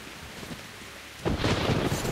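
Heavy rain and thunder in Metro Last Light Redux start as a soft wash, then a sudden thunder crash at about the midpoint swells into a loud, dense downpour with no talking.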